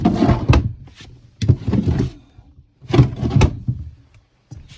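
Storage drawers beneath the beds of a 1978 Avion travel trailer being opened and closed, several wooden slides and thunks in quick bursts, close by and fairly loud, with no talking.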